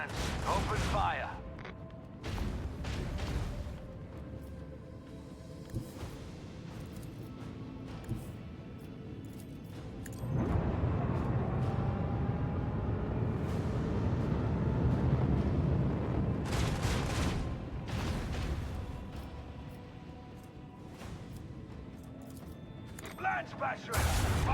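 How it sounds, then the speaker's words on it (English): Macro cannons fire in a space battle video game: scattered booming shots early on, then a long rolling barrage of blasts and rumble through the middle, with more sharp reports near the end. "Macro cannons, open fire."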